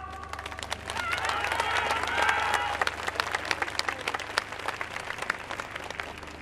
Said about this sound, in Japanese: 温かい手拍子拍手よろしくお願いいたします